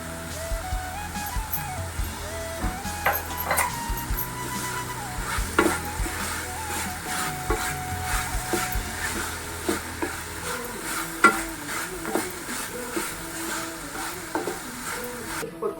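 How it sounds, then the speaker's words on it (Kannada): Chopped ridge gourd sizzles in a hot pan while a spatula stirs and scrapes it, giving repeated clinks and scrapes over a steady frying hiss. "ಒಂದು 5 ನಿಮಿಷ ಹುರಿಯೋಷ್ಟರಲ್ಲಿ ಹೀರೆಕಾಯಿ ಮೆತ್ತಗಾಗಿ ಹೋಗುತ್ತೆ."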